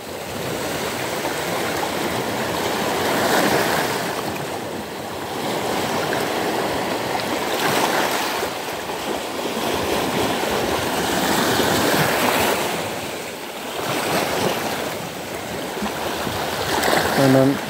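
A slightly choppy sea washes steadily and fairly loudly close by, with broad surging swells rising and falling in a continuous rushing roar.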